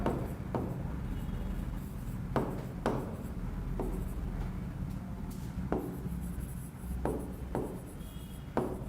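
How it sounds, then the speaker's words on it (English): A formula is written by hand on a surface, giving faint scratchy strokes broken by several sharp taps, spread across a quiet background hum with no talking. "So again we will write the formula."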